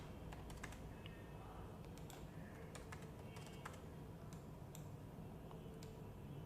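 Numbers are typed into a spreadsheet on a computer keyboard, with faint, crisp key taps in scattered quick clusters over a low steady background hiss, close and quiet, and no talking.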